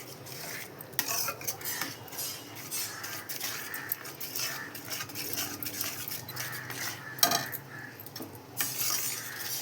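A utensil stirs egg rice in a pan on the stove, scraping and clinking against the metal in an irregular rhythm over a faint sizzle, close and clear.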